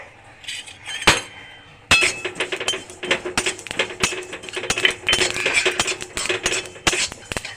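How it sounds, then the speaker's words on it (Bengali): Tiny sesame seeds hiss and patter in a hot empty pan while a metal spatula scrapes and taps repeatedly, busy and close. "গরম কড়াই, খালি কড়াইয়ের মধ্যে ভেজে নেব এবার তিলটাও নেড়ে ছেড়ে।"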